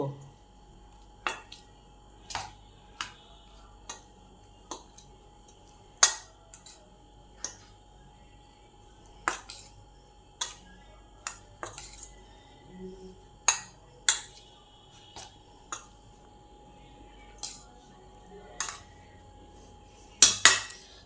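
Spoons or hands mixing raw green mango pickle with dry-roasted ground spices in a bowl, giving sparse, irregular clinks and ticks spaced a second or two apart, with a faint murmur underneath.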